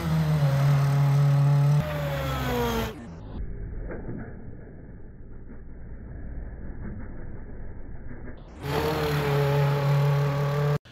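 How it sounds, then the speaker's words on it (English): A Cummins diesel in an Ultra 4 race car, twin-charged with both supercharger and turbocharger, idles with a steady mid-level rumble, set between louder stretches of other sound at the start and end. "So this engine is a twin-charged engine, which means it's supercharged and turbocharged."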